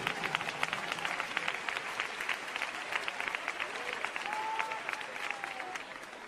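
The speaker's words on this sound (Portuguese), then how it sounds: "Podem glorificar ao Senhor com uma salva de palmas bem forte" A church congregation gives strong, joyful applause during a worship service, with steady crowd clapping and crisp individual claps at mid-distance and a brief vocal cheer rising above.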